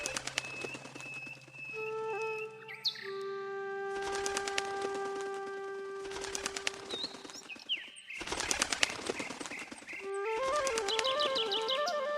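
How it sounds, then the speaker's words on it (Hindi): A small bird in an animated story flaps its wings in flight, bursts of fluttering repeating every couple of seconds between musical tones and chirpy cartoon effects. "टोनी खाने के लिए कुछ लेने के लिए अपने घर से अपनी बहन के घर के लिए उड़ान भरी।"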